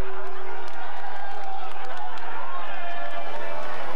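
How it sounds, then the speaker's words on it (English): Roadside crowd at a Tour de France mountain stage reacting as Chris Froome rides through, a sustained loud wash of mixed shouting and jeering from many spectators, steady throughout with no distinct single voice. "Listen to the crowd when Froome comes through."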